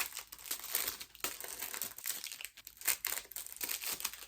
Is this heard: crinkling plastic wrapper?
yes